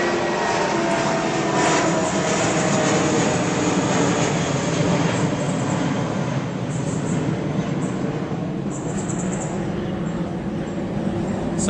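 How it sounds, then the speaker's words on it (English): A loud, steady roar of an airplane passing overhead fills the whole stretch, with no voices. "Wow, airplanes."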